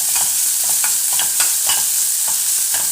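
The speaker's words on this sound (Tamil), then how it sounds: "திட்டமாக வதங்கினா போதும் வெங்காயம்" Onions sauté in a hot pan for a spicy bread omelette, giving a loud continuous sizzle broken by regular spatula scrapes and stirring knocks, close by with no voices.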